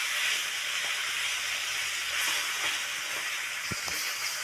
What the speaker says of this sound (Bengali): মাছ আমার ভাজা হয়ে গেছে ওই তেলের মধ্যে